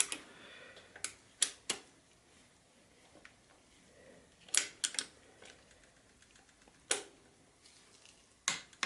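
A torque wrench clicks sharply and quietly at close range as it tightens the cylinder bolts on a 1985 Yamaha IT200 dirt bike to 18 foot-pounds, giving single clicks and quick pairs separated by short pauses.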